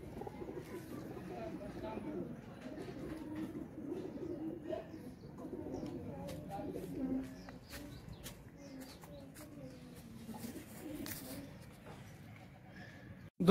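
Pigeons coo softly in a low, steady murmur against a quiet outdoor background, with faint scattered clicks and rustles.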